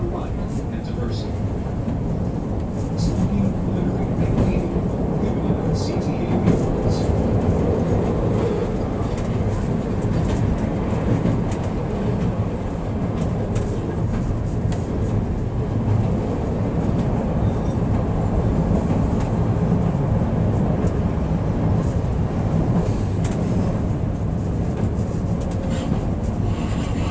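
Riding inside a Chicago Brown Line train heading toward the Loop. A loud, steady rumble of wheels and motors carries on throughout, with faint rail clicks and rattles on top.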